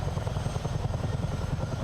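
Simulated Miltech CH-47 twin-rotor helicopter in Microsoft Flight Simulator, flying over the Potomac River: a steady, loud rotor drone with a rapid low thudding pulse throughout, no voices.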